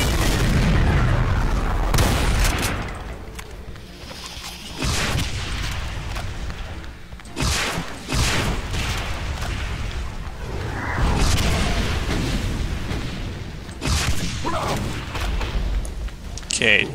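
Rocket explosions boom repeatedly in a chaotic FreeDoom session modded with Complex Doom, loud heavy blasts and gunfire bursting every few seconds amid dense game noise, with a voice talking over parts.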